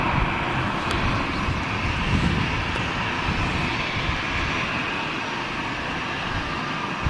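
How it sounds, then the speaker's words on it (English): An Air Canada airliner touching down at Manchester Airport on arrival from Toronto, a loud, sustained, broadband engine roar with heavy low rumble that holds steady for seven seconds with no talk. "As we have the Air Canada just touching down from Toronto."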